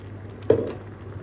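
Water splashes into a hot frying pan of baking soda mixture while cooking on a stove, a single short pour-and-sizzle burst that fades over a second, close and moderately loud with no voices.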